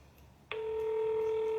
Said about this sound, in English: Wait while I transfer your call.